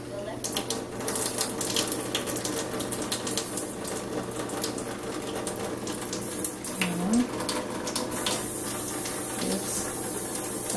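Water pours steadily from Athena and Delphi water ionizers into a kitchen sink, a continuous splashing flow that holds at a close, even level throughout.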